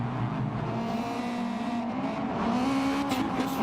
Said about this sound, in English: Still spinning tyres.